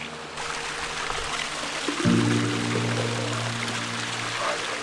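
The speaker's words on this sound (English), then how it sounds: "We found some water so we could fill our bottles" Water pours and trickles steadily from a mountain stream into bottles being filled in a wide valley of Gran Paradiso National Park, Italy, a close, continuous splashing flow that deepens in tone partway through.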